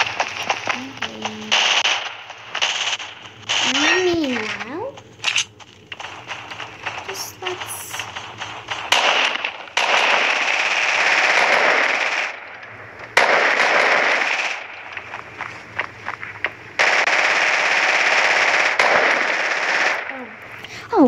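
Rapid bursts of automatic gunfire ring out in an online shooter video game, coming in repeated loud volleys separated by short gaps, with occasional game sound effects and brief voice in between.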